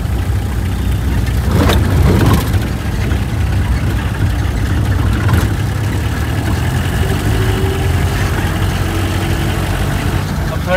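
A 1994 Padmini Premier car being driven in third gear through Hyderabad gives a steady, loud low engine drone with road rumble throughout, and voices talk over it.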